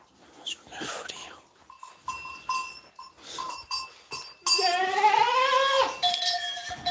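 Goats in a pen during kidding season bleat in short, nasal calls, with one long, loud wavering bleat near the end, mixed with scattered human voices and handling noises.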